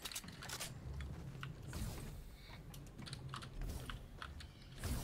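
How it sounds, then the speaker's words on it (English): A computer keyboard is hammered rapidly and unevenly during a video game, its dense, close clatter of keystrokes running on without a break. "You're a sweat when you hear the keyboard smashing."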